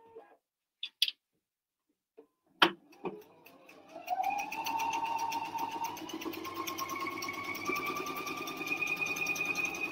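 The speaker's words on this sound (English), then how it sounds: "So this is what's called edge stitching, or it's a needle width away." Sewing machine running steadily while edge stitching on tulle mesh, a continuous close mechanical whir with rising pitch after a few soft clicks and taps at the start.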